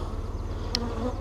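Honey bees, freshly vacuumed, fill a laying worker hive with a dense, steady buzzing drone, close and continuous, with a brief click partway through.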